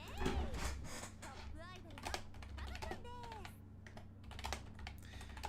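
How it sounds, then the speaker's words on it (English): Computer keyboard typing during a Riichi Mahjong online game session, clicks and taps scattered through the clip beneath ongoing background game audio and music. "I'm typing this out"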